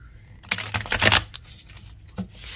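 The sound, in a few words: shuffling a deck of cards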